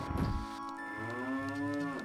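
Cows moo in The Legend of Zelda: Ocarina of Time, one long drawn-out synthetic bovine moo with a falling tone, clear and close, after a brief rustling start.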